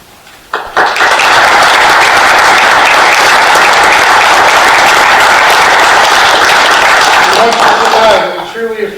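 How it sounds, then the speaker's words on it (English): Sustained applause from a standing audience honoring military veterans at a city council meeting, loud and dense for about seven seconds before tapering off as a voice begins. "would you please stand so we can give you a round of applause and recognition for your service to our country"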